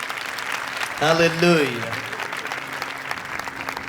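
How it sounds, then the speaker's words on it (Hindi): A church congregation at a Good Friday sermon claps in steady applause, moderately loud, while a voice calls out over it early on, then the clapping carries on evenly beneath the room. "जोरदार ताली"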